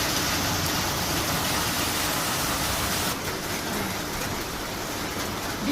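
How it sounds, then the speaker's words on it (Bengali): Steady, heavy rain falls outside, a dense continuous hiss that barely changes and has no other distinct sounds within it. "বৃষ্টি হচ্ছে বাইরে, ভালোই বৃষ্টি হচ্ছে।"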